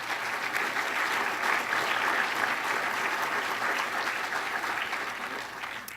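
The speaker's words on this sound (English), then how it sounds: "You deserve a round of applause." Audience applause at a State of the County address, a sustained wash of clapping from a crowd that holds steady for the whole stretch, fairly loud and even.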